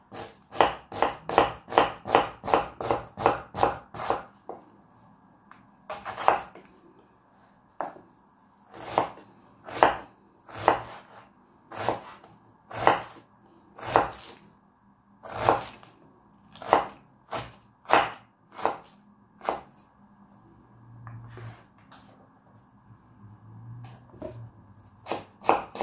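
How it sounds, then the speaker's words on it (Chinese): A knife chops onion into small pieces on a board with sharp, close, rhythmic knocks, fast steady bursts at first, then slower, more spaced strokes with brief pauses between them. "这皮亚兹把它切成碎粒就行了"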